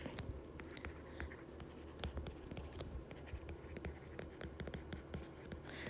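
A pen or marker writes out a transfer function during an engineering lecture. The scratchy strokes come in quick irregular bursts, close and fairly quiet, with no talk.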